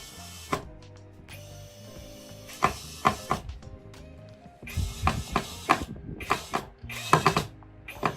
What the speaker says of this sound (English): So we're just gonna tighten this one with some additional screws.